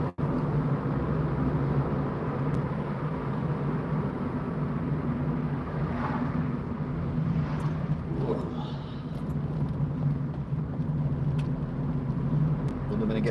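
Car driving through traffic during lockdown in Wigan, with a steady low engine drone and road rumble throughout, held in third gear through a corner, close and constant with no speech.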